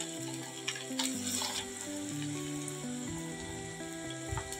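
Chicken pieces frying in a pan over a very low gas flame, giving a steady close sizzle and crackle with a few sharper pops, alone without any talking.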